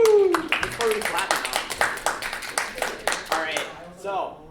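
An audience at a spring game jam event applauds in a brief burst of clapping, loud and close at first and thinning out, while a voice speaks and cheers over it.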